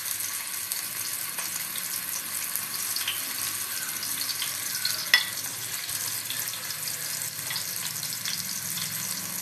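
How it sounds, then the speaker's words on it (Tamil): Marinated prawns frying in hot oil for a crispy prawn varuval give a steady, even broadband sizzle with a few brief pops and spits throughout, fairly close and moderately quiet, with no voices. "இப்போ இறால் பொரிக்க போகிறோம்"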